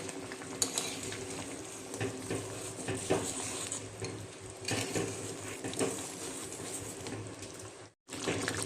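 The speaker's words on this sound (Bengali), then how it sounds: "মুগ ডালের বড়াগুলি আমি দিয়ে দিচ্ছি" Mung dal fritters dropping into a simmering curry in a home kitchen, giving steady close bubbling and soft stirring clatter throughout, with a brief drop-out near the end before the simmer resumes.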